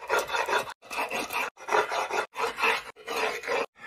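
Harsh rasping strokes of a stone hammer head ground against stone with a little water, five long back-and-forth passes, close and loud, with short pauses between each stroke.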